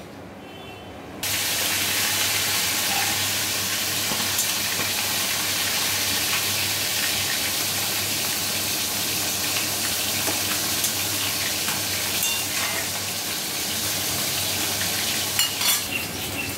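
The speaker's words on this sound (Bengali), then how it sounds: "এবার উচ্ছে আর পেঁপেটা একসঙ্গে কিছুটা সময় সেদ্ধ হবে" Bitter gourd and papaya simmering together in a pot, giving a loud, steady bubbling hiss that starts abruptly and runs unbroken with no talk.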